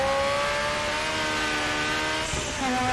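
A race car engine in RaceRoom Racing Experience holds a steady, loud, high-pitched drone. Near the end its pitch drops sharply, as with a gear change or lift-off, and it then climbs again.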